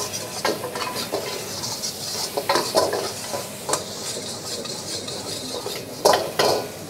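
Red chilli paste fries in hot oil in a pan while a spoon scrapes and stirs, giving a steady sizzle broken by sharp metallic clinks and scrapes of utensil against pan.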